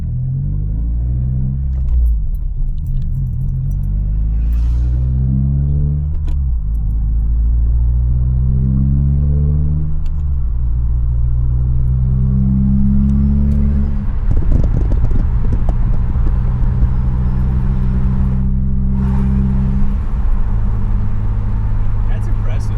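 A 2022 Subaru WRX with a flex fuel tune rumbles from outside through open windows, its engine note rising and falling through repeated revs, loud and close, with people talking over it.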